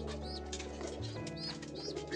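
Pigeons cooing quietly close by, soft low coos mixed with a few high chirps, faint and continuous over a short stretch.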